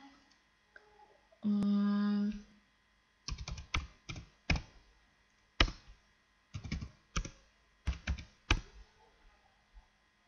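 Keys clicking on a computer keyboard while marks are entered into a Dev C++ program, a sustained tone early on, then bursts of separate taps and sharper enter presses, close and fairly loud with no talk.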